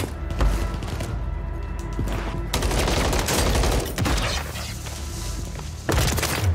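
MCW rifle fire in a Call of Duty match: loud, sustained automatic gunfire that runs almost without pause, with heavy thumping impacts and a few short breaks between strings of shots.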